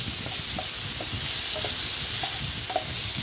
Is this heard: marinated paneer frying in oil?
yes